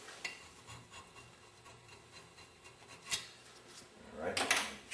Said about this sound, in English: We're just trying to knock the corrosion off the surface here.